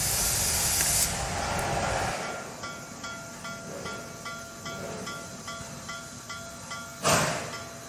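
Steam hisses from a kettle as a broad, steady rush, loud for the first two seconds and then settling into a softer continuous hiss, with a brief sharp burst near the end.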